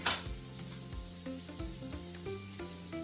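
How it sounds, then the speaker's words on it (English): A hot pan sizzles sharply as an onion goes in for an omelet, a burst of hiss at the start settling into a quieter frying crackle with light clatter of cooking. "We're just gonna take our onion, drop it right in."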